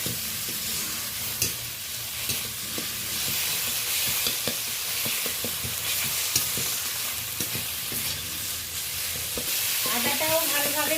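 A spoon stirs a mix of onion, tomato and ginger paste as it fries in a pan, with steady sizzling and hissing broken by scraping clicks from the stirring.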